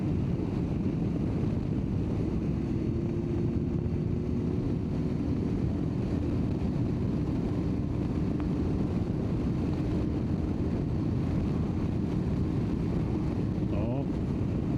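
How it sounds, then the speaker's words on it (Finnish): Strong wind buffets the microphone with a constant low roar and rumble, loud and unbroken, with a faint engine drone underneath. "tuuli puistaa niin perkeleesti"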